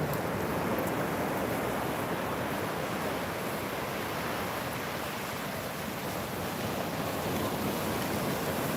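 Atlantic Ocean surf rolls onto a sandy beach on a holiday weekend as a steady, continuous wash of breaking waves. Wind buffets the microphone, and no voices are heard.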